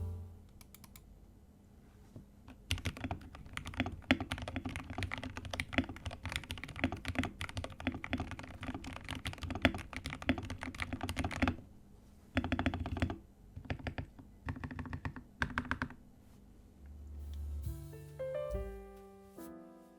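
Dense, fast clacking of typing on an RK61 budget mechanical keyboard fitted with thick PBT shine-through keycaps, close and steady with brief pauses and a few isolated thocky keystrokes near the end.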